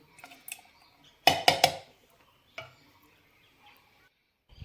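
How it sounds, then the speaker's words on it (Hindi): Metallic clanks of a pressure cooker lid being put on, a cluster of sharp rattling knocks followed by a single softer clink and a final tap, close and otherwise quiet. "अब मैं कुकर का ढक्कन लगा दूंगी"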